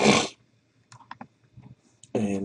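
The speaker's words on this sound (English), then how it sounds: "you can type demo online in the command window" A few light keystrokes click on a computer keyboard as the command demo is typed in MATLAB, scattered taps in a quiet gap between stretches of talk.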